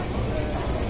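An MTR train in Hong Kong runs toward Chai Wan, heard from inside the carriage as a steady, loud rumble with a high whine.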